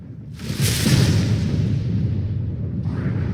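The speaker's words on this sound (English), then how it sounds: "Cinematic lightning." A cinematic lightning strike in Final Fantasy XVI, a loud booming crack that rushes in and rolls on as a heavy rumble for a few seconds, with a brief hiss near the end.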